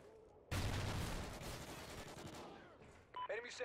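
A sustained burst of rapid gunfire roars out in a Call of Duty: Ghosts squad match, loud and dense for about two seconds before tapering. Brief electronic game sounds follow.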